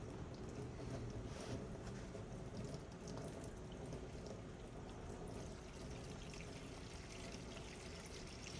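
Water running to fill a container for collecting hydrogen gas, a continuous, fairly even rushing flow heard close by, with no talk over it.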